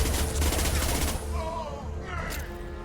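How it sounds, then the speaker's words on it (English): A high-impact shot in Mass Effect 2 starts with a loud burst of rapid gunfire and fades into a fainter whine and mechanical tail, all within about three seconds. "Firing a high impact shot."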